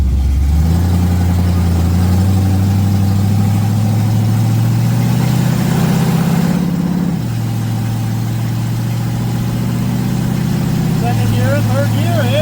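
A 1979 Pontiac Trans Am V8 on a test drive, loud and close, pulling through rising engine tones with a shift partway, then settling into a steady drone as the car cruises.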